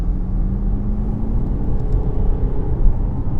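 A Jaguar F-Pace SUV engine pulls hard under full-throttle acceleration in dynamic mode, a loud continuous rumble with a rising tone heard from inside the cabin.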